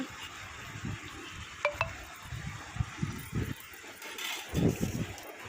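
Garelu, lentil vadas made as a Navaratri offering, frying in hot oil in a home kitchen: a steady soft sizzle with scattered light clinks of a utensil and a few louder stirring bursts.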